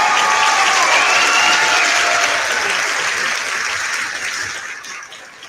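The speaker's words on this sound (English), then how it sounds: "That's some realistic crowd noise" A crowd claps and cheers loudly, the applause swelling at first and then gradually fading away toward the end.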